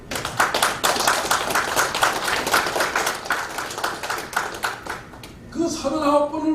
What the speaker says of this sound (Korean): 그럴 때 여러분들이 박수로 환영해 주는 거예요.